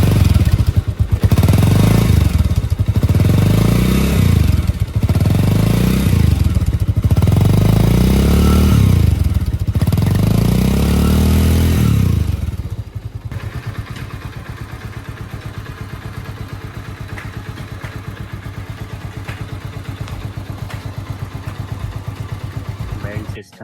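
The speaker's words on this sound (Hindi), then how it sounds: "हमने इसे फर्स्ट गियर में डाल रखा है, सो दैट आप इसकी नॉर्मल जो बाइक का मूवमेंट है या फिर उसके साथ एग्जॉस्ट को सुन के आप रिलेट कर" Bajaj Avenger 220 cruiser motorcycle idling in first gear, its exhaust giving a steady deep throb with a rhythmic pulsing surge for about twelve seconds before settling into a quieter, even idle.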